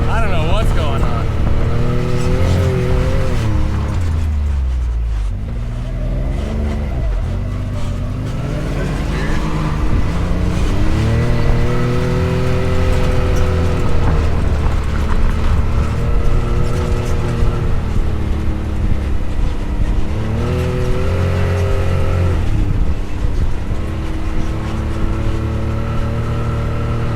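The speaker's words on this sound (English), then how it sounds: "I'm driving in here with one hand" An off-road vehicle's engine drones and revs on a backcountry drive through Grand Staircase-Escalante. Its pitch swells and dips repeatedly over a loud, rumbling drive, with voices talking over it.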